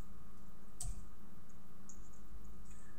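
A single faint mouse click in the Construct 3 editor, sharp and brief, set against a low steady background hum with little else happening.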